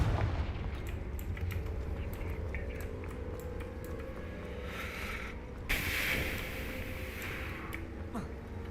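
The Confringo fire spell from the game Hogwarts Legacy goes off with a booming blast and a crackling burst midway, over a low rumbling game soundtrack and a brief voice before it.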